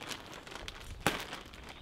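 A package is ripped open by hand, a quick burst of crinkling and tearing with one sharp, louder rip near the middle, close to the microphone.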